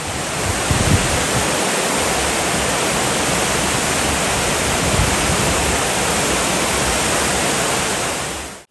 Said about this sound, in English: Cedar Falls has a height of 50 feet and can usually be seen flowing.